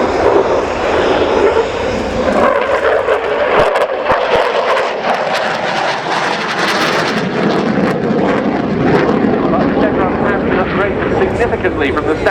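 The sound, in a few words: Belgian Air Component F-16A fighter jet flying display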